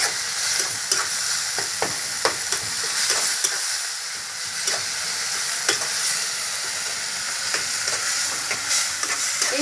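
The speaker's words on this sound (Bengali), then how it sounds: "সবসময় নাড়ানাড়ি করতে থাকবো যাতে কড়াতে লেগে না যায়।" Ingredients with ground cumin paste fry in a kadai under a constant close sizzle, punctuated by regular spatula scrapes and taps as they are stirred.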